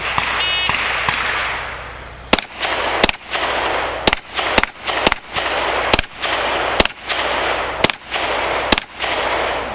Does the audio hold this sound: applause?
no